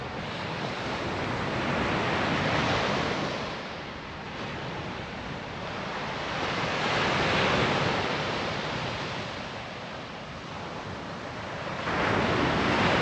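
Surf washes onto a beach in swelling, receding surges, steady and fairly loud, with wind buffeting the microphone while someone walks along the shore.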